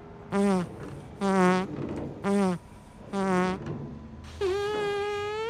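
A comedic fart sound effect in a sitcom scene plays as a series of four buzzing, pitched bursts separated by short gaps, then a longer drawn-out one, loud and close with no talking over it.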